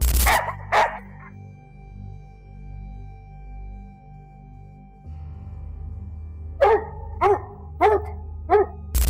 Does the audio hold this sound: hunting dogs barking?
yes